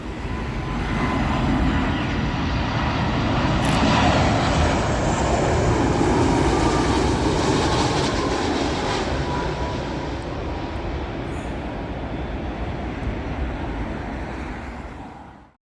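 An airliner arrives on runway 27L at Heathrow Airport, heard from Myrtle Avenue as a loud, steady jet roar that holds for several seconds and then fades away at the end, with no voices.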